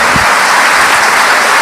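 Loud, dense applause from a church congregation during a service, a continuous wash of clapping that fills the whole moment with no voices over it.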